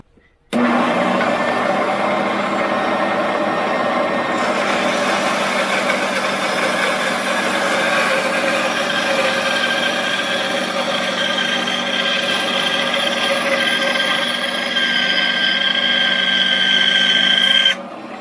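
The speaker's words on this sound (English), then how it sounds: "I'll use a little bandsaw for this." A small bandsaw runs in a woodshop while cutting wood for rope makers, a steady loud motor whine that starts suddenly, holds evenly for about seventeen seconds and then cuts off.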